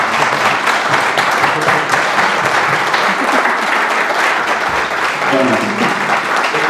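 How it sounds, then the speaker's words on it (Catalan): Audience at a closing round-table session applauds the debaters, a dense, sustained wash of clapping with faint voices beneath it. "us demano un aplaudiment per als debaters"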